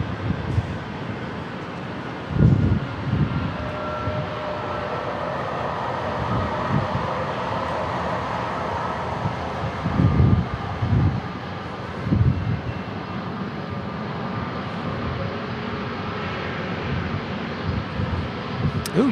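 A United Airlines jet airliner departs westbound from San Diego International, its engines a continuous moderate roar with a few low thumps rising out of it at intervals, no speech.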